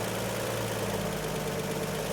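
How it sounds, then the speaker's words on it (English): Carburetted car engine idling high at about 1,000 rpm, a steady close drone with a faint regular pulse and no talk over it. "The idle's kind of high right now."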